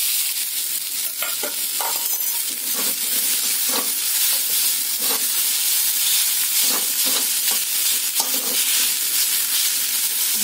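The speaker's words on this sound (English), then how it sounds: "Saute for a few seconds. Now add the rice into it." Rice with banana stem and masala sautéing in a hot pan, a loud, constant sizzle with repeated scraping strokes of a spatula.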